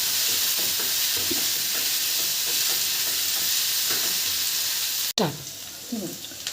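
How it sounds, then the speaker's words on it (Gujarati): Green chillies fry and get stirred in a pan for a Gujarati lilva kachori filling, with a steady broadband sizzle and soft spoon scrapes, then a louder clattering stir near the end. "હવે લીલા મરચાં નાખ્યા પછી આપણે તેને સારી રીતે મિક્સ કરી લઈશું"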